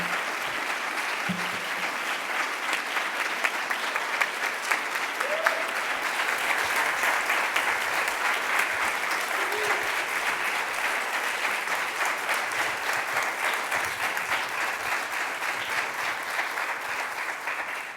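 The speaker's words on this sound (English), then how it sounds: "please join me in giving a warm National Constitution Center welcome to Carrie Johnson, Jim Obergefell, and Debbie Cenziper." Steady applause from a live audience at the National Constitution Center as guests walk onto the stage, continuous and full from start to finish with no talking over it.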